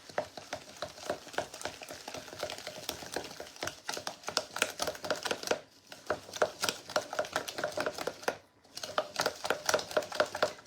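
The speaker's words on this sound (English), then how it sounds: "And then 1/3 cup of milk. Then we're going to mix that up good." Cornbread batter of Jiffy mix with egg and milk is stirred briskly in a bowl, a rapid rhythmic scraping and tapping with two brief pauses.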